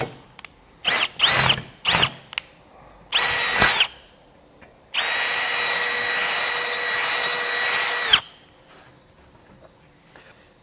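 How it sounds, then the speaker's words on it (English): A power drill whirs in several short bursts, then runs in one long steady whine for about three seconds before stopping, close and loud. "drill a hole out here in the back using the drill size listed in our instruction manual"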